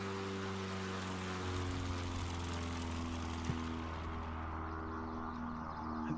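Propeller aircraft engine drones steadily in Microsoft Flight Simulator during a short takeoff in an eSTOL competition, a loud continuous hum with layered engine tones throughout.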